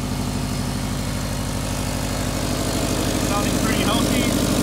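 The engine of a 2008–2014 Subaru STi runs after 1000cc Bosch EV14 injectors were fitted on the stock fuel rail. It gives a loud, steady, close idle with no breaks.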